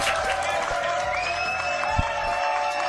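A studio audience claps and cheers loudly and continuously, a dense crowd roar with scattered whoops and a sustained tone running underneath, without a clear break across the stretch.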